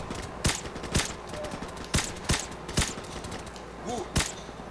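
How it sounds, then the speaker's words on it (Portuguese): Sharp gunshots from Call of Duty Modern Warfare Remastered crack one at a time at irregular intervals, about six shots over a low background hum. "eu não tô gostando muito é do som dos tiros"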